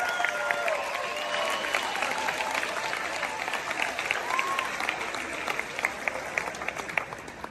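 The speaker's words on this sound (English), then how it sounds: "Let's give them a big round of applause." Steady audience applause for a couple on stage at a speaking event, a continuous wash of clapping with scattered louder claps and faint crowd voices mixed in throughout.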